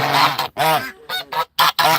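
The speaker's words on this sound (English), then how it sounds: "These are either African production or Chinese geese." Loud, close honking from African or Chinese geese in a rapid series of harsh, nasal calls with short gaps between them.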